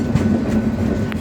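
Railroad cars roll steadily past on the track, a loud, continuous rumble with faint rhythmic clatter from the wheels, heard close and with no voices.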